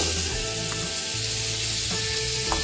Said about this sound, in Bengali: মাছ ভাজার তেলেই আমি এই আলুগুলোকে ভেজে নেব।